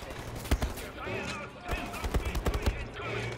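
Scattered gunfire from the video game Wolfenstein: The New Order, several sharp reports and short bursts spread unevenly through the moment over a busy game background.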